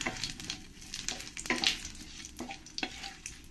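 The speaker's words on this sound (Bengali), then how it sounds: "এবার এর মধ্যে আমি 1 চামচ জিরে দিয়ে দেব। তেজপাতা, শুকনো লঙ্কা দিয়ে দেব।" Cumin seeds, a bay leaf and dried chillies sizzle in hot oil while a spatula stirs, giving crackling fizz with repeated scraping strokes at an uneven pace, close by and moderately loud, no talking.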